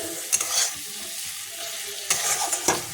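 Spice paste of cumin, garam masala and turmeric frying in oil for a chicken curry, a steady hiss broken by sharp stirring scrapes near the start and again near the end.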